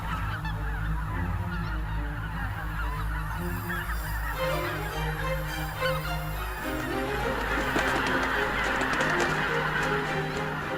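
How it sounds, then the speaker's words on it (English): A large flock of geese honks continuously across the Biebrza Valley marshes, a dense overlapping chorus of calls, loud and sustained throughout. "After about 2 weeks of intense foraging, the geese leave the Biebrza Valley."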